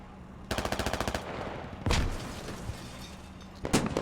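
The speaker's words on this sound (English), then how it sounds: "lots of explosions unfolding on the eastern border of the objective" Squad game combat: a rapid burst of automatic gunfire followed by heavy booming explosions and another sharp blast near the end, loud and close with no talking.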